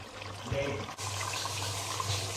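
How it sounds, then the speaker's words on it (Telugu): Half a glass of water is poured into a pot of partly cooked mutton biryani, a steady splashing pour that runs for a couple of seconds with a brief break midway and no talk. "ఒక 1/2 గ్లాస్ వాటర్ వేసుకొని ఉడికించుకోవాలి."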